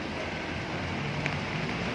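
Steady rain hiss fills the clip, constant and moderately loud, with no voices or other distinct events standing out.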